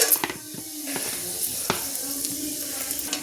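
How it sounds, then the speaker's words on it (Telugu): Chopped onions sizzling and frying in a pot for chicken pulao, with scraping stirring strokes and soft clicks of a spoon over a constant hiss. "ఇప్పుడు ఆనియన్స్ అయితే వేసుకున్నా. ఇప్పుడైతే కలుపుకుంటున్నా."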